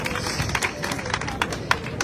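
Dense, steady applause from a crowd for hospital staff, a continuous wash of many hands clapping together with a faint murmur of voices underneath.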